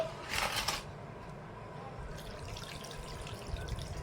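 Tamarind juice is poured into a fish curry masala in a brief liquid splash lasting about half a second. A faint wet, sloshing background follows.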